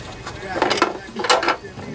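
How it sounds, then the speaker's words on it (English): A 3/8 bolt goes back into a Briggs and Stratton lawnmower carburetor during a rebuild, giving a short run of close metallic clinks, scrapes and ratchety rattles. "Now we put this 3/8 bolt back in"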